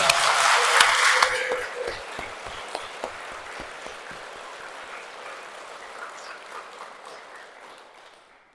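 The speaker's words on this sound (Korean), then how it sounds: "앞으로 그분께서 이끌어 가실 우리 아들, 딸들을 위해서 박수 한번 쳐줄게요" A congregation at a Catholic Holy Spirit gathering claps for their sons and daughters, starting as a loud burst of many hands, then thinning into scattered individual claps that fade out.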